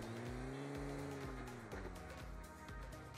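Vehicle engine in PUBG Mobile on the snowy Vikendi map, a steady droning motor with rising and falling pitch as the car is driven, loud and continuous throughout with no talk.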